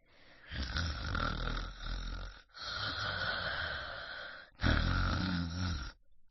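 A voice imitates loud snoring: three long, rasping snore-like breaths in a row, each a few seconds, close and harsh.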